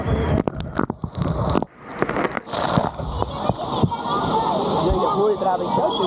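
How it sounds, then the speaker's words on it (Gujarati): Water pours down steadily from above at a water park, a loud continuous splashing rush that builds and holds, with earlier clattering and people talking in the mix. "ઉપરથી તો પાણી પડતું જ રહેશે"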